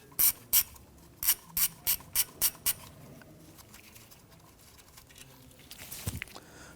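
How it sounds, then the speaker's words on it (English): A 10mm socket ratchet clicks in quick bursts while loosening the ABS sensor bolt on a 2011-2021 Jeep Grand Cherokee, with two clicks, a short pause, then a run of six sharp, evenly spaced clicks, followed by faint handling noise. "Use a 10mm socket to go ahead and loosen and remove the bolt here for the ABS sensor."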